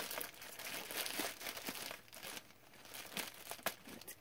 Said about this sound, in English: So for now, let's open this bag.